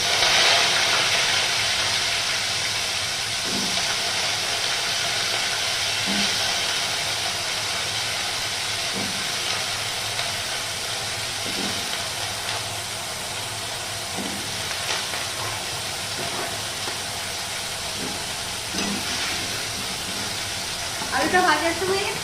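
Potatoes frying in hot oil with cumin seed tempering in a Bengali kitchen, a steady, quiet sizzling hiss with faint periodic taps of a utensil.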